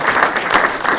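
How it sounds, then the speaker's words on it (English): Seminar audience gives a short, dense round of applause, loud and close, lasting only about a second. "Have a round of applause for your client"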